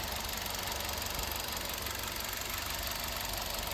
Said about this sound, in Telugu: ఇంజన్ చూడండి, చాలా సైలెంట్ అంటే సైలెంట్గా ఉంది.